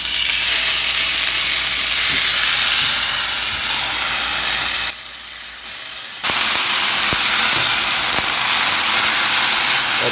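Loud, steady sizzling of tomato sauce frying in a hot pan, briefly dropping quieter for a moment before the crackling hiss resumes at full strength.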